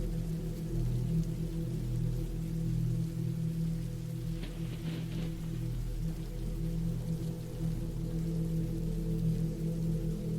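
Steady rain falls without pause, a soft even hiss of drops on a surface, close and continuous with no voices over it.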